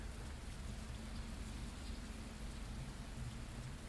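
Steady, dense rain in the Fernbus bus simulator game, a continuous even hiss of falling drops with a low rumbling undertone and no breaks.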